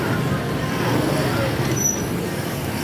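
Dense road traffic noise near Iriga public market in the Philippines, a steady broadband rumble of cars and buses with a constant crowd murmur mixed in.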